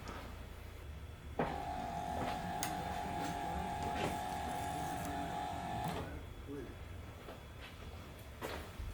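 A Ford Contour's power antenna mast motor whirs with a steady electric hum for several seconds, then stops with a click, surrounded by faint clicks and light background noise.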